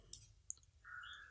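A few quiet computer mouse clicks during After Effects editing work, two or three sharp ticks over a faint background hum, followed by a brief soft electronic tone.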